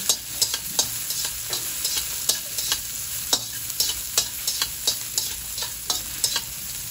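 Taro stalks and bamboo shoots stirred in a sizzling pan, a utensil scraping in a steady rhythm of sharp strokes over a constant close frying hiss, with no talking.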